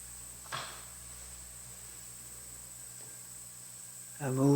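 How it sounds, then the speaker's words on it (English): Cicadas drone as a steady high, thin whine throughout the quiet room, joined by a faint knock early on and a brief rustle near the end. "Cicadas in the ears, right here."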